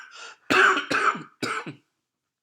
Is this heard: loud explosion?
no